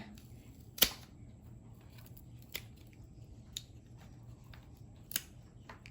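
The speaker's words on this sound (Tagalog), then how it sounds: "Kunin ko yung pruning shear para matanggal ko na itong kulay itim dito" A few sharp, crisp snips of pruning shears cutting a phalaenopsis orchid leaf, spaced a second or more apart, with the first the loudest, over a quiet low hum.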